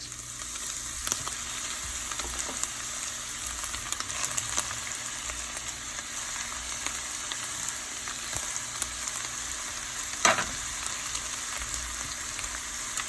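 Seasoned ground beef fries in a pot with a constant, even sizzle that fills the whole stretch. A single sharp clink stands out near the end, and no one speaks.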